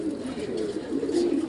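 Pigeons in a home loft coo in a low, continuous murmur, fairly close and steady throughout with no talking.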